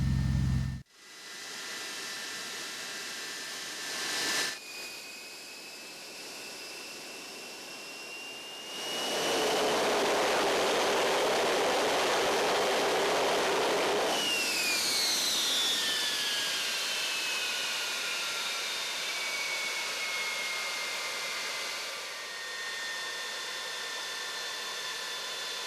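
Avro Vulcan XM655 jet engines spooling up during a fast taxi run: a loud, sustained roaring whine with rising and falling tones, a sharp surge of thrust midway, then a long steady howl fading slightly.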